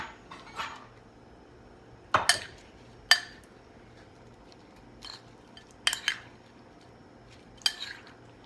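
A spoon clinks and scrapes against a bowl while tossing tofu pieces in barbecue sauce, a handful of sharp separate knocks spread out against a quiet background.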